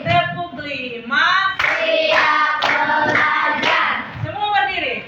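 A group of students in a classroom clap along to a chanted rhythm, with loud hand claps breaking through their unison singing partway through.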